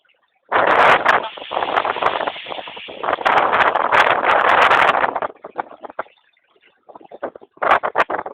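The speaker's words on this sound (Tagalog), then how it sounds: "Napakalakas ng hangin" Loud roaring gusts of wind from Typhoon Pedring batter the microphone for several seconds, drop away briefly, then return in shorter blasts.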